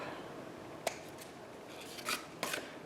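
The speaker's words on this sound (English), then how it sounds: "I've got a bit of trimming to do there, so I'll just trim that up." Scissors trim paper for a plaid and polka dot crafting project, a few quiet close snips, one crisp cut followed by a short pair of slicing cuts.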